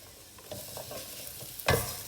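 Half-cooked soft raw jackfruit being stir-fried with garam masala in a pan, a low steady sizzle under a few scraping stirs and one louder clatter of the spoon near the end.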